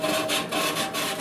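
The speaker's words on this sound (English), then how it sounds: "I'm going to run a little sand cloth around this" Sand cloth rubs around the metal opening of a kitchen sink drain, a close, rhythmic scratchy swishing in quick back-and-forth strokes.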